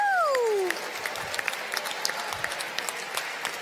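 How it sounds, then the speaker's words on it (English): A gala audience at a science celebration breaks into applause after a short descending whistle-like tone, the clapping continuing as a lively, crackling patter with a few louder claps. "Give you guys a round of applause."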